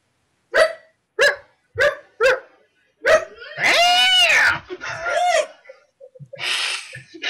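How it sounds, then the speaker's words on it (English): A dog barks four times in sharp, evenly spaced bursts, then one more after a pause, followed by a longer wavering, howl-like call and a few fainter yelps, loud and close with no talking. "Sound like a dog."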